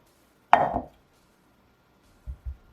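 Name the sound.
thinly slicing half an onion with a knife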